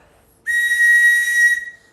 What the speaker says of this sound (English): You can blow that whistle.